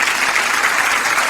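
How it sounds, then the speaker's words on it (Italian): A studio audience on an Italian TV show applauds a young singer with dense, steady clapping that holds evenly through the moment. "Gli diamo un benvenuto con un forte applauso."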